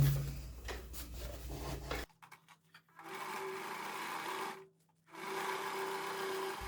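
A sewing machine stitches the lining of a large thermal carry bag, running in a steady whirring burst, stopping briefly, then running in two more close runs separated by a short pause.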